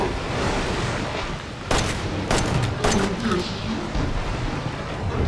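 Gunfire in the video game Resident Evil 7 sounds as a few sharp, loud shots spaced a second or so apart over a low rumbling ambience, with a player's voice talking in between.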